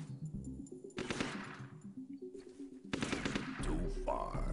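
Automatic gunfire from squad weapons in the tactical game UFO: Aftershock, with rapid bursts in two loud stretches over game effects and ambience.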